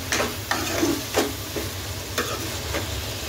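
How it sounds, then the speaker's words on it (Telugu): Tomatoes with salt are stirred in a pan, giving soft sizzling under a series of distinct scraping strokes spaced about half a second to a second apart, close and moderately quiet. "ఒకసారి టమాటాలు అన్నింటికి కలిసేలాగా మిక్స్ చేసుకుందాం"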